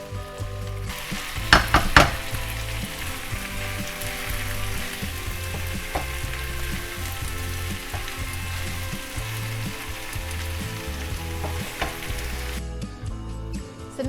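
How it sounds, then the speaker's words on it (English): Cubed potatoes coated in spices for Indian-style jeera aloo sizzle steadily in a hot pan, with a spoon scraping and clacking through them in bursts; the frying hiss holds loud and even, then drops away near the end. "Give it a good stir to make sure that the potatoes are covered in all the spices"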